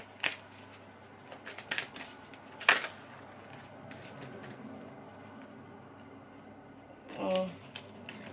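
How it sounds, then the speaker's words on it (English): Soft papery riffling and flicking of tarot cards being shuffled close by, in short uneven bursts over a quiet background hum. "Let me shuffle these cards real quick."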